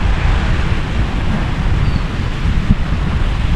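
Ocean waves rush and roll in a continuous low roar on a beach in Masbate, Philippines, mixed with heavy wind buffeting the microphone.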